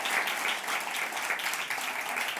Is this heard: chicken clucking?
no